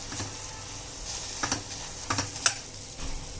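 Bread for double ka meetha simmers in sugar syrup, a soft continuous bubbling hiss broken by a few light spoon taps and clicks as it is stirred.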